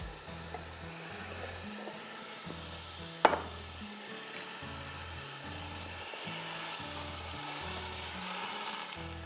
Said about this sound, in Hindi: ये डालूँगी और उसको भूनूँगी